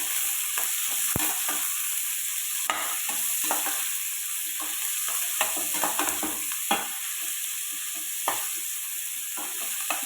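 Chopped big onions sautéing in a pan for a spicy chow chow (chayote) chutney, a steady broadband sizzle with repeated scraping stir strokes throughout, close and fairly loud with no talking.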